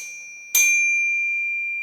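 A bicycle bell on a trail bike gives a single bright ding that rings on and slowly fades, clear and close against near silence.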